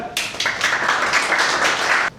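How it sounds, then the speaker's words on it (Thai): Students clapping for a classmate during a fire-extinguisher drill, a steady patter of many hands lasting about two seconds, fairly close and without talk. "อ้าวปรบมือเพื่อน"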